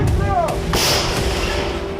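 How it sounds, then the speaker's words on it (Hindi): A Russian howitzer fires in Zaporizhzhia, one heavy boom with a broad crack and rumble tailing off after a short whistling sweep. "ज़ेपोरिज़िया में रूसी सेना के जपाट ग्रुप ने हॉवित्ज़र से धावा बोलकर यूक्रेन के 3 पोस्ट को तहस नहस कर दिया"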